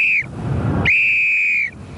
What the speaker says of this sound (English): Do you want me to blow the whistle again?